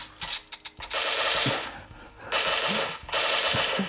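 Gunfire in the PUBG Mobile game: a few single shots, then two long loud bursts of rapid automatic fire, close and dominant.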